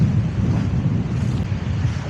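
Wind buffets the microphone in a steady low roar, with a faint wash of surf behind it and no voices.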